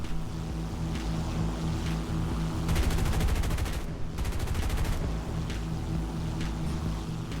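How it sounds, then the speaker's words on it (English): Artillery fire in the War Thunder video game, a burst of rapid, rattling blasts loud over a constant droning engine and rumbling ambience, with a second volley following shortly after. "Another artillery."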